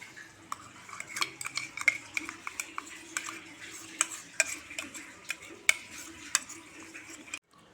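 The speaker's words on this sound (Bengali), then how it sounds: "ভালো করে মেখে নেব।" Duck curry being stirred by hand as a paste of onion, ginger, garlic, green chilli and tomato is worked into the meat, with repeated close utensil clinks and scraping against the pot over a low sizzle, no talking.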